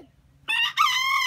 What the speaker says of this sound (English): This is my rooster.